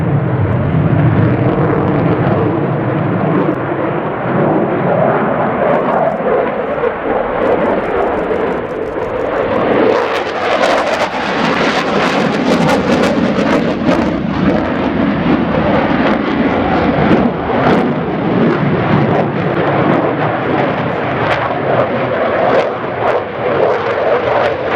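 A French Air Force Rafale C fighter jet roars through a flying display at RIAT, a loud, sustained engine rumble that swells sharply about halfway through as the jet passes close, then stays powerful and rough to the end.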